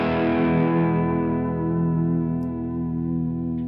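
A Stratocaster electric guitar with a floating vibrato bar rings out a sustained, chord-like tone with effects and slight distortion, wavering gently in pitch as the bar is worked, heard alone and up close.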